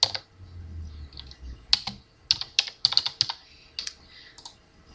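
Keys clack on a computer keyboard in short, irregular bursts of crisp taps with brief pauses between, close and fairly quiet, no voices.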